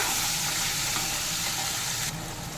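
Thick spice paste for boal fish curry sizzles steadily in hot oil, a constant crackling hiss that suddenly softens just before the end.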